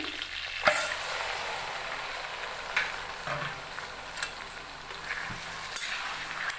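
Chicken sizzles in hot oil with a constant crackling hiss, punctuated by several sharp clinks and scrapes of stirring.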